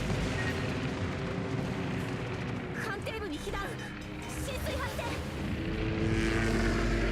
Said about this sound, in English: Here come torpedo bombers.